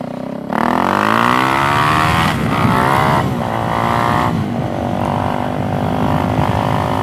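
Suzuki DRZ 400SM single-cylinder motorcycle, upgraded, accelerating hard through the gears, with a loud buzzing engine note that rises in pitch, dips briefly at each shift and climbs again, close and continuous.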